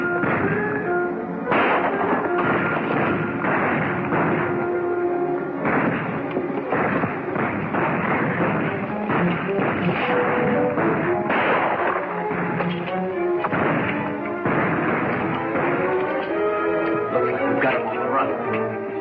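A 1937 western film shootout, with gunshots cracking and thumping repeatedly and irregularly over a full orchestral score that plays loudly throughout.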